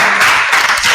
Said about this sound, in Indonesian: kalau udah kasih tepuk tangan dong